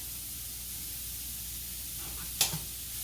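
Shrimp fried rice sizzling in a pan, a steady, faint hiss with a brief clatter near the end.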